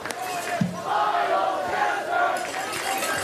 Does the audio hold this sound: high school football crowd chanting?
yes